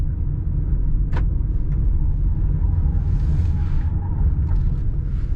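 A 2022 Subaru Forester Premium's engine drones in a low steady rumble, heard from inside as throttle is added while the car turns in a tight circle at low speed, with faint tire and cabin noises.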